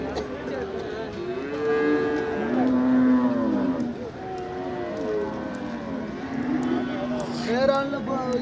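Cattle at the Manapparai cattle market give out long, drawn-out moos one after another, loud and close, while people talk nearby.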